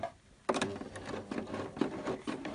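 Sewing machine running through two layers of fabric on a bumblebee costume sleeve, a short burst of rapid mechanical stitching after a quiet start, close and fairly loud, no speech.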